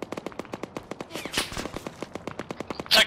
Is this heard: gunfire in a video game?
yes